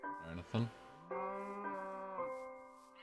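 A sheep bleating in Minecraft on PS3, a drawn-out, wavering, tonal baa lasting about a second, preceded by short broken sounds.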